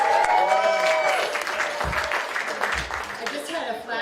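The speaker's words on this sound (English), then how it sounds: "Give yourselves a round of applause" An audience at an Ignite Denver talk night applauds, a short spell of crowd clapping with a speaking voice running over it.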